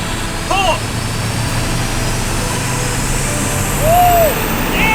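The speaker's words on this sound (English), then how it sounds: "Engaging dynamometer. Add the load. Pull!" A 7.3-liter Powerstroke diesel in an OBS truck drones loud and steady under load on a dynamometer, with brief whoops and shouts breaking over the engine.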